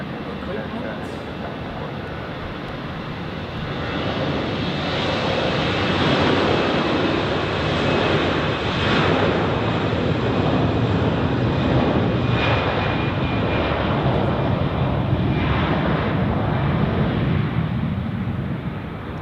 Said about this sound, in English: the daily flight seems to be taxiing to runway 16